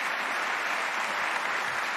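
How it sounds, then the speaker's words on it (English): Audience applause at a televised final gubernatorial debate in Virginia, a steady dense wash of clapping from a large crowd throughout. "You guys can clap if you'd like for this one"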